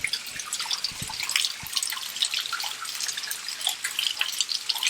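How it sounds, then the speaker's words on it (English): A waterfall sink faucet runs with water splashing and dripping into the basin, a close, steady bright patter with a few heavier drops near the start. "it's a waterfall sink"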